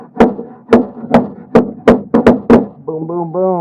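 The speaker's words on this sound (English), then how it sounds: "You can take a little hammer like this and just use" Eight sharp metallic taps of a small hammer's handle on a 1967 Camaro door lock cylinder, in an irregular rhythm, close and fairly loud, followed by a brief voice.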